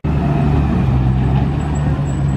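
A car passes on a city street in Nice, France, with a steady, loud engine rumble close by and traffic noise behind it.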